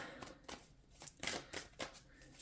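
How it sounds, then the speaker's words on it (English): Soft, repeated riffling and slapping of a tarot deck being shuffled, a series of papery bursts in an uneven rhythm, quiet and close over faint background hiss. "I hope all the shuffling doesn't bother you."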